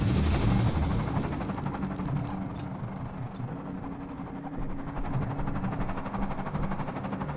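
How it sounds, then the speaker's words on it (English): Combine gunships from Half-Life 2 flying overhead, a steady droning rotor roar with a low rumble. It is loud at the start, eases slightly, then holds through to the end with no voices. "Look at these gunships."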